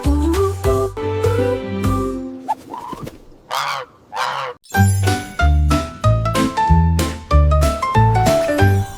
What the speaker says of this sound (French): Une oie volant dans un ciel clair.